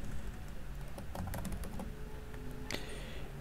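Fingers typing a username on a computer keyboard, a quick irregular run of close, crisp key clicks with short pauses, ending in a sharper tap, with no talking.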